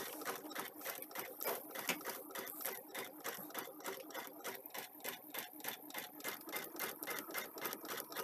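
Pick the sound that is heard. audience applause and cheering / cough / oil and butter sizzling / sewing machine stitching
sewing machine stitching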